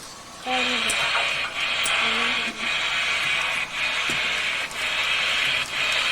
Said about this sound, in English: Push this to uncouple the train. That's the real sound.